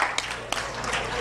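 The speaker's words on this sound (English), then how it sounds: "A mild smattering of applause for the former NWA President." A mild, thin smattering of audience applause at a wrestling Q&A event, scattered claps under a steady crowd murmur for about a second.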